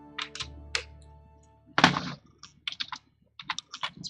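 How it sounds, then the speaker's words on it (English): Computer keyboard typing in short irregular bursts of clicks and key thunks, close and fairly quiet, with gaps between the flurries and no talk. "Keyboard."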